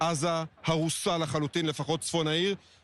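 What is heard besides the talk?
No everyday noise stands out behind the speech.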